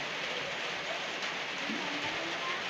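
Light rain falls outdoors as a soft, steady, even hiss that stays constant throughout, with no other sounds standing out.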